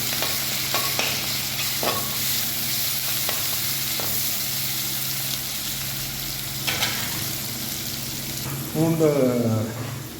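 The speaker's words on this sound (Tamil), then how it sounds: "வெங்காயம் சேர்த்துருக்காங்க. நல்லா வதங்கிட்டு" Onions sautéing in oil in a pan for a brinjal curry, with a loud steady sizzle and repeated scraping stirs close by, plus brief splashy water sounds toward the end.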